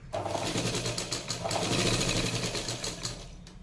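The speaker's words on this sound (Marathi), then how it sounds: "इथे अगोदर व्यवस्थित अशी शिलाई मारून घ्यायची आहे आतमध्ये" A sewing machine stitches a katori blouse in a steady, close, continuous whirring run with a rapid needle rhythm, alone and without talk.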